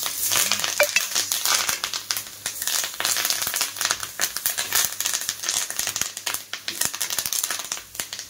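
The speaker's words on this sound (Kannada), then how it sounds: "ಕರಿಬೇವು ಹಾಕಿ ಅದು ಹೆಂಗೆ ಅಂದರೆ ಕ್ರಿಸ್ಪಿ ಆಗಬೇಕು" Curry leaves crackle and spit in hot oil for kadle puri seasoning, a loud, dense crisp sizzle with sharp pops throughout, close by.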